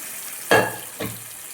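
Garlic with dried chilies, mustard seeds and cumin sizzling in hot groundnut oil, two short bursts of frying crackle about half a second apart over a steady background hiss.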